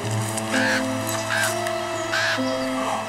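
Crows cawing in several harsh, separate calls spread across a few seconds, fairly close, over a steady low tonal drone and background hum.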